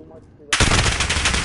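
Sustained automatic gunfire in a Warzone match bursts in abruptly after a quiet stretch, loud, dense and continuous to the end, with faint talk before it starts.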